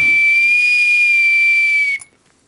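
A whistle blown once as a signal in a group game, a loud, steady shrill tone held for about two seconds with a breathy hiss, then cut off abruptly into quiet.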